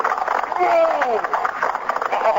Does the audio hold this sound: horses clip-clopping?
yes